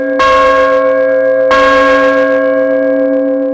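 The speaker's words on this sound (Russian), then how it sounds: "Звон разносится по всей округе." The largest bell of a newly consecrated church tolls twice, about a second apart; each loud, close strike leaves a long, sustained humming resonance.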